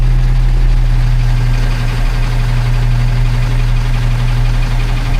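Terminal truck engine idling steadily while the vehicle is lowered onto its legs, a loud, continuous low rumble with constant vibration throughout and no talk.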